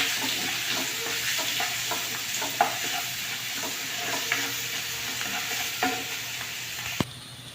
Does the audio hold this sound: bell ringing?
no